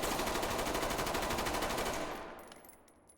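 Rapid automatic gunfire from a weapon in the video game Ready or Not, a dense burst of evenly spaced shots for about two seconds that cuts off, followed by faint metallic tinkles of ejected casings.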